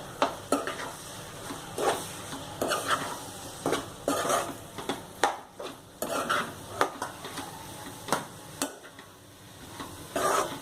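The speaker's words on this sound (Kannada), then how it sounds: "ಈಗ ನೆಕ್ಸ್ಟ್ ನಾವಿದಕ್ಕೆ ಬೆಲ್ಲ, ಹುಣಸೆ ಹಣ್ಣಿನ ರಸ, ಹಾಗೇನೆ ವಾಂಗಿಬಾತ್ ಪೌಡ್ರನ್ನ ಸಹಿತ ಹಾಕಿ ಮಿಕ್ಸ್ ಮಾಡ್ಕೊಳ್ಳೋಣ." Jaggery, tamarind juice and vangibath powder being stirred together in a pan for vangibath, with repeated close scraping and clinking of a spoon against the metal over a soft sizzle, in irregular bursts without speech.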